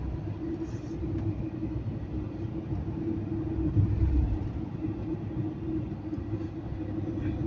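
Car engine braking on a road in Jeddah, a low, steady interior rumble of engine and road noise at moderate level, swelling slightly midway.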